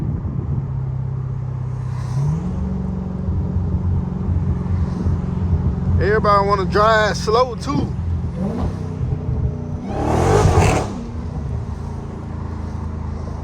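A straight-piped, supercharged Dodge Hellcat drives along a road, with its engine rumbling low and steady under talk inside the car. It swells into a loud, rising rev burst near the end.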